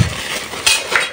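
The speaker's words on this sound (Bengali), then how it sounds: "আর এখানে হলো প্লেট নিছি" Plates and other kitchenware being handled and packed, giving a short burst of clinks and dish rattles close by, heard alone.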